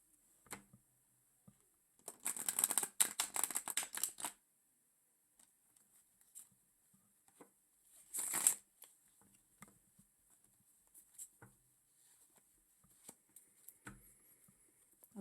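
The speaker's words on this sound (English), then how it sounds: "Give our cards a good shuffle." Tarot cards are shuffled in two soft, quick riffling bursts, each a couple of seconds long and close to the ear, with faint taps and handling noises between them in an otherwise quiet room.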